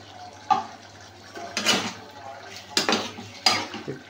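A spoon stirring jackfruit curry with ghee in a metal pan, with clinks and scrapes in uneven bursts against a low background hum, close by.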